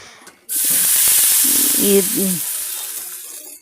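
A loud, sudden hiss of sizzling oil bursts in and holds steady, crackling as mustard seeds and curry leaves fry for sambar, slowly easing off; a brief murmur of voice underneath.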